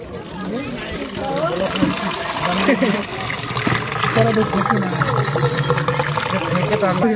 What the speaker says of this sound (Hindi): देखिए किस तरह से पानी को डाला जा रहा है